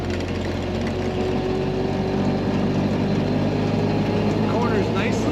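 A 1930 Ford Model A Roadster with rumble seat drives along, its engine giving a steady low drone and rumble that holds constant throughout, loud and close.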